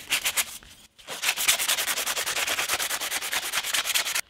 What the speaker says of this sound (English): I am sanding the metal, getting the surface roughed up